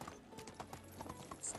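Horse hooves clip-clop in Medieval Dynasty, a steady rhythmic string of near hoofbeats at a brisk pace, with a brief soft whinny-like tone near the end.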